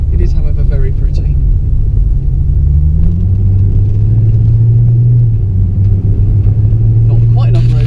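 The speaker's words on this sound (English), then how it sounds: "enjoying the left-hand drive of a car on tiny wiggly roads" A car works its way along narrow, winding village lanes in North Wales, its engine giving a low, steady rumble that rises slightly in pitch partway through, with someone talking over it at times.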